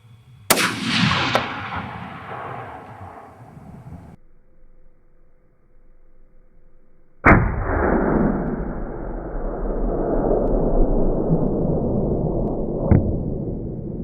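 Two rifle shots are fired at beavers outdoors, several seconds apart. Each is a sharp, loud crack followed by a long rumbling echo that fades slowly.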